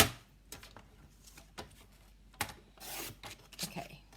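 Whisper White cardstock is cut down with a paper trimmer, giving scattered close scraping and rubbing strokes, one longer slide and a few light taps, fairly quiet with no voice.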